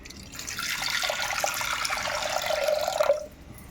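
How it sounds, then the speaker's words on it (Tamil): Water pours into a pot of washed chana dal, a steady close splashing stream that rises slightly in pitch as the pot fills, then stops abruptly. "இப்போ நம்ம இதில் தண்ணி சேர்த்துக்கலாம்."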